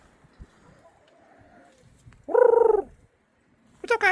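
Chickens in a backyard coop give a short burst of clucking and squawking, fairly close, followed by a brief second call after a pause and quiet low rustling.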